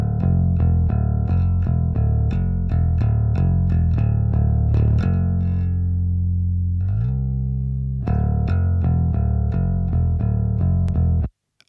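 Raw, unprocessed electric bass guitar for a rock mix, played as a rhythmic run of picked notes with a brief sustained slide in the middle, close and clean with no other instruments, ending abruptly.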